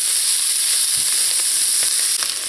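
Saltfish with provision vegetables frying in a pot, a loud, continuous hissing sizzle with small crackles and pops throughout, heard alone without talk.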